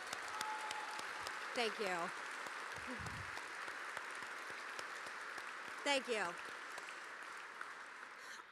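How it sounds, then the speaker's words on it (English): A roomful of guests at a veterans' heroes gala applauds steadily for several seconds while a voice calls out thanks over the clapping and someone briefly murmurs at the microphone. "Can we just give him a hand of applause right now?"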